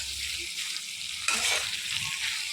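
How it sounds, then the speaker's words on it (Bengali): Sour curd stirred into pointed gourd and prawns frying over low heat, giving a soft, steady sizzle with a brief rise partway through, quiet and close without any voices. "টক দই দিয়ে আঁচ কমিয়ে ক্রমাগত নেড়ে দেবো এটাকে"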